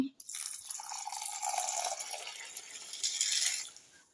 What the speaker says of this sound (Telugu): ఇప్పుడు ఇందులో వాటర్ పోసేద్దాం